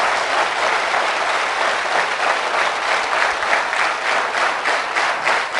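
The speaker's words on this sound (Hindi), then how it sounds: "आपकी तालियां ऐसी होनी चाहिए कि शुरू भी आप करें और खत्म भी आप करें।" A seminar audience bursts into sustained applause. The clapping is dense and steady, fills the room at a constant level and carries no speech.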